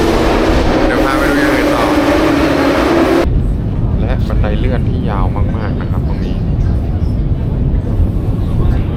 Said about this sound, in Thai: แรงที่สุดตั้งแต่เคยนั่งรถไฟมาเลย รถไฟใต้ดินที่ จอร์เจียเบลิซี่